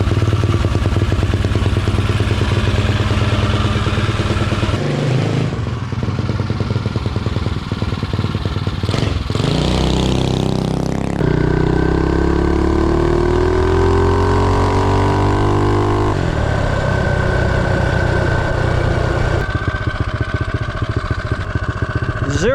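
A Mega Moto 212 minibike with a Tillotson 225 engine, jackshaft and 40-tooth rear sprocket runs close and loud throughout. The engine revs up repeatedly through rising pitch sweeps as it accelerates toward top speed, with rattling clatter and wind noise.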